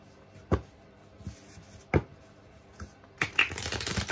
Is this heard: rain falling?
no